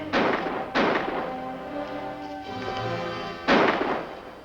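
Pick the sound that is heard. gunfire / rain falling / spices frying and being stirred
gunfire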